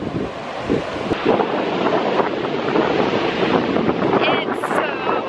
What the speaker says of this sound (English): look how big the waves are